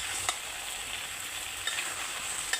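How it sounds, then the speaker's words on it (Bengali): Mixed vegetable curry cooked without water sizzles steadily in a pan under a just-lifted lid, with a few faint spoon scrapes as it is stirred. "এখন আমি ঢাকনাটা তুলে তরকারিটা নেড়ে দেবো।"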